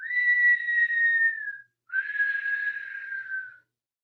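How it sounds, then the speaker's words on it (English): Mouth whistling on the breath, two long steady tones, one on the inhale and one on the exhale, separated by a short pause, clear and close with no talk. "you're going to begin to whistle on the inhale and the exhale through the mouth"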